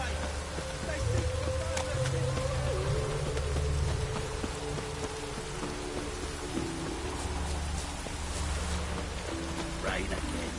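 Steady rain falls in The Witcher 3: Wild Hunt on PlayStation 4 Pro, a continuous dense hiss with low rumbles of thunder throughout, while character voices murmur faintly underneath.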